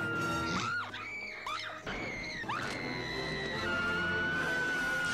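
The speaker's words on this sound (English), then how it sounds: "Screaming." A woman's shrill, sustained screams from a Batman movie scene, rising and bending in pitch over a few seconds, loud and up close with music and effects underneath.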